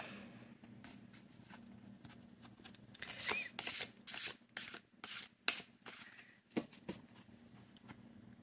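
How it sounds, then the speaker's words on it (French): A deck of oracle cards is shuffled by hand, a quiet run of soft papery riffles and flicks in the middle stretch with light taps before and after, close and faint with no talking. "Alors, on va tirer 3 cartes."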